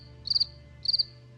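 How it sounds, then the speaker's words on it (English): A cricket chirps in two short, shrill, trilling bursts with a pause between them, clear and close against an otherwise quiet background. "crickets."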